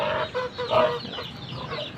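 Chickens cluck in short, busy bursts close by, with a steady murmur of fowl around them.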